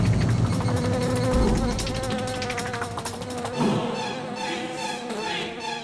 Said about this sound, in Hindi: कोई मक्खी देखी तो डर गया?